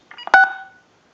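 A short burst of DTMF keypad dialing tones from a Uniden EX965 cordless telephone, a few quick beeps in rapid succession, clear and close, then silence.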